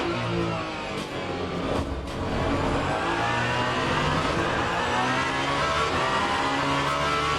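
Continuous engine roar of GT3 race cars on track in the Le Mans Ultimate racing game, steady and loud with rising revs and layered engine tones throughout, no voices.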